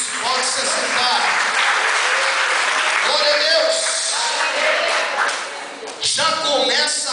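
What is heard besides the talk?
church congregation applauding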